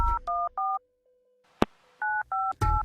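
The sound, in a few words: telephone keypad dialing tones, punching in a phone number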